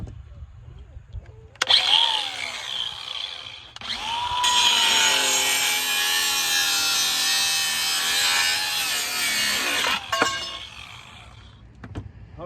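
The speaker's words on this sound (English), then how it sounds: "Why do that when you have a grinder, right?" An angle grinder cuts through scrap copper and brass, grinding loudly in a long continuous pass with short bursts before and after, sounding close by with no talking.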